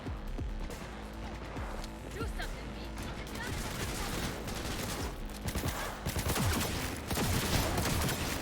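Gunfire from a gun in Cyberpunk 2077: repeated sharp shots and bursts, some clustered in rapid volleys, mixed with impacts and game action, and a voice talking over parts of it.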